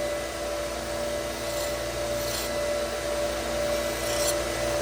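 Steady grinding hiss of a knife edge worked against a 220-grit Scotch-Brite belt on the slack section, a continuous close abrasive drone with a constant tone running throughout and no voices.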